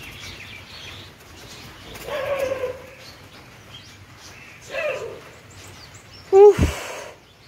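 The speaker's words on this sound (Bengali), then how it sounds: "আবার ঘুঘু ঢুকছে।" An indoor dove (ghughu) makes a few soft low coos and rustling movements, with a short sharp louder burst near the end, in an otherwise quiet room.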